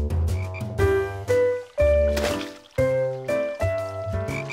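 Cartoon frogs croak in a bathtub, a run of loud, resonant, drawn-out croaks in quick uneven succession with slight watery squishes between them.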